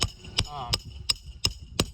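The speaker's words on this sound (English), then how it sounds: "this snake is allowing me to drive the nails in without having to lift the shingle" Six sharp, evenly spaced hammer strikes drive a roofing nail through a roof snake tool slipped beneath an asphalt shingle, close and crisp, with a brief voice murmur between early blows.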